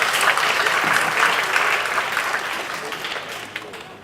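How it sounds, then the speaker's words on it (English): An audience at an architecture design conversation claps together after the talk, a loud, even wash of applause that holds steady and tapers slightly toward the end, with no voices. "Let us give them a round of applause."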